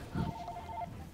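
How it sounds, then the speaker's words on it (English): A phone rings faintly during a Modern Warfare 3 Spec Ops session, one short electronic ringtone burst at low level over background noise. "Uh-oh, my phone's ringing."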